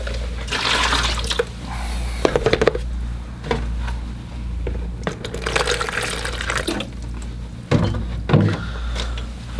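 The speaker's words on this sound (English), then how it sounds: "I'll get some fresh water." Fresh water runs and splashes into a container, apparently from a tap, for watercolor painting, a loud continuous pour with a few bursts and drips, no talking.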